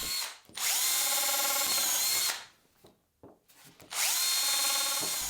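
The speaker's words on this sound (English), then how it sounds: "I pre-drill and countersink some holes, which is pretty essential when dealing with MDF." A power drill pre-drilling holes in MDF whines up to speed twice, each run lasting over a second, with a quiet gap of faint handling between them.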